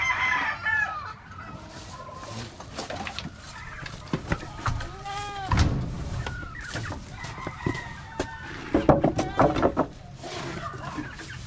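Goats bleat at a goat house amid a busy farmyard, their wavering calls mixed with loud rooster crowing and steady chicken clucking throughout.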